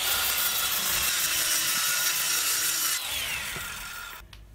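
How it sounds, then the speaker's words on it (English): A power saw rips strips from 3/4 inch plywood in a workshop, a loud, close, continuous whine that shifts in pitch as the blade cuts, then winds down near the end. "I'm going to rip some strips out of some 3/4 inch plywood"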